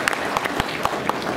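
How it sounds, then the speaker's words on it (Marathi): Crowd at a political election rally in Nanded claps in short bursts, scattered sharp hand claps rising and falling over a brief moment, fairly close. "टाळ्या मारा"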